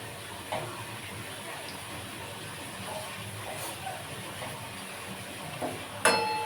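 Onion bud fritters (piyaju) fry in a pan with a steady, soft sizzling hiss, broken by a few faint clinks and a sharper clatter near the end.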